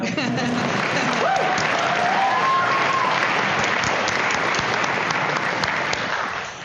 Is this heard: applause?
yes